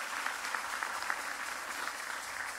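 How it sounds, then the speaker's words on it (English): Audience applause at a political party meeting, a steady wash of clapping from many hands, fairly distant and even throughout. "So I ask that you give the immigration officers a round of applause for that."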